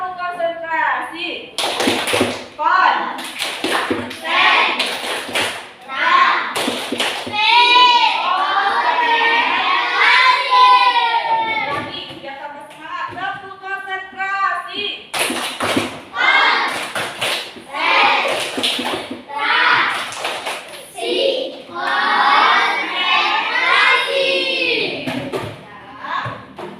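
Children in a classroom perform the rhythmic tepuk konsentrasi concentration clap: close, sharp bursts of hand claps in quick patterned groups, mixed with their chanting voices and an adult talking between rounds.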